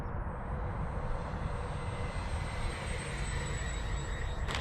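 A Freewing L-39 80mm RC jet plane comes in to land with gear down and full flap, its ducted-fan engine idling in a faint, steady rushing whine that carries on unbroken.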